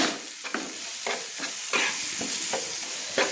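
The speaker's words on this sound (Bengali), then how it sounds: "দিয়ে ভালো করে আমি তেলের মধ্যে কষিয়ে নিচ্ছি, সুন্দর করে কষিয়ে নিচ্ছি" Spice masala sautéing in hot oil for a cabbage and egg curry, a steady close sizzle broken by repeated spoon scrapes and stirs against the pan, no voices.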